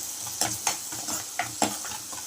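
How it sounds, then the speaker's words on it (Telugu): Turmeric and chilli powder being stirred into masala maggi in a hot pan, several distinct scraping strokes of a spoon over a soft sizzle, close and rhythmic, no speech. "వేసుకొని మనం ఇలా కలుపుకోవాలండి."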